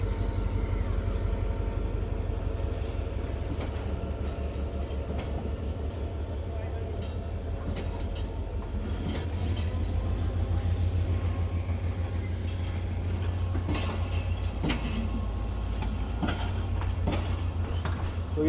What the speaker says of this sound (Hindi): मीरपुर खास से कराची सिटी तक ये ट्रेन सफ़र करती है अपना।